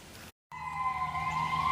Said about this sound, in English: we got a lot of sirens coming our way